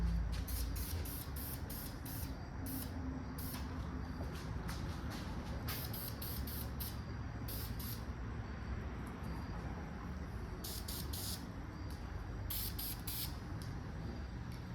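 Steady hiss of spray painting in a garage paint booth runs continuously under a rumbling background, with brief pulsing bursts in the high end.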